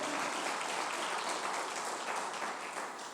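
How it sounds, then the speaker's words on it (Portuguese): A church congregation claps steadily and continuously during a sermon, a dense wash of many hands applauding together with no pauses. "Bata as palmas para o Senhor, diga glória"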